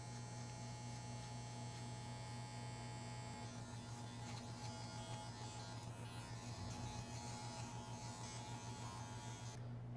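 Cordless hair clipper buzzing steadily through a fade haircut, a constant close electric hum that cuts off abruptly just before the end.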